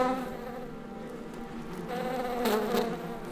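Worker honeybees buzzing in flight on their first flights in a Japanese satoyama forest, a soft steady drone with faint hovering wingbeats that swell slightly toward the end, alone and fairly quiet.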